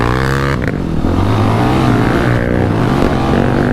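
Polaris Outlaw 525 IRS ATV engine pulling under throttle, a loud, close, steady droning growl with shifting pitch and constant wind rumble throughout.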